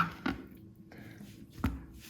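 A knife chops through a homemade cucumber on a board, dicing it into small cubes, two distinct crisp cuts separated by a pause, close and clear.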